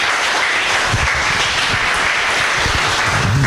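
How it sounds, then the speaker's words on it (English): Loud, continuous applause from a tech talk audience for the speaker Rebecca, a dense wash of clapping close by with a few low bumps and murmurs underneath. "get please one more round of applause to Rebecca"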